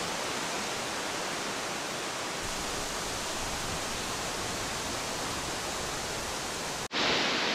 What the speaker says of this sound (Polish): strasznie tu wieje do góry